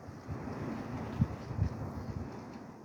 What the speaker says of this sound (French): Écoute les cris du vent qui te lave, qui te nettoie.